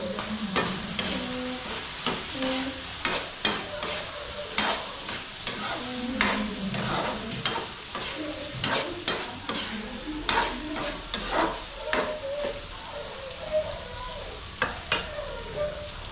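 Food stirred and cooked in a frying pan at home, a continuous sizzle broken by frequent irregular scrapes and knocks of the spoon against the pan, close and without talk.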